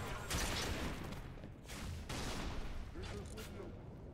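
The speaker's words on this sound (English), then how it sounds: "Mauler shooting spikes is gnarly" The Mauler weapon firing spikes in Halo 3 with the H3MO mod, giving a few loud bursts of harsh, booming shots close by, with voices in the background.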